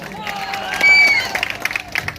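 Audience at a live music show claps and cheers, a burst of fairly close applause swelling in the middle, mixed with crowd noise and shouts.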